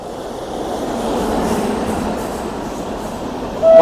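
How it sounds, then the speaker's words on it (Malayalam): An Ernakulam SMVT superfast express train rushes past at close range, a steady loud broadband roar of wheels and carriages with a brief high whistle-like squeal near the end. "ഇത് എറണാകുളം SMVT എക്സ്പ്രസ് ആണ്"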